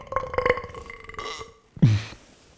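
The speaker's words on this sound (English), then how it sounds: "Coronas make you burp." A loud belch after drinking Corona beer, one deep croaking burp that rises sharply and fades, preceded by faint background sounds with no speech.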